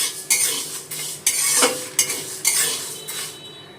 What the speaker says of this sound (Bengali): গ্যাসটা বাড়িয়ে দিয়ে সমানে নাড়াচাড়া করে মশলাগুলো ভেজে নেব